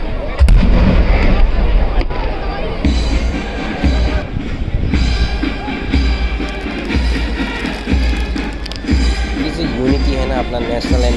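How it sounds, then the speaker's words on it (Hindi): Rapid, booming fireworks crackle continuously during Dasara celebrations in Mysore, loud and dense, with voices talking underneath throughout. "यहाँ पे बहुत सारा आतिशबाजी हो रहा है, वो भी रियल वाला"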